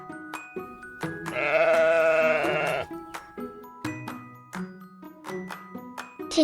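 A sheep gives one long, loud, quavering bleat up close, framed by short musical notes before and after in a farm-animal learning song, with no talking heard during the call.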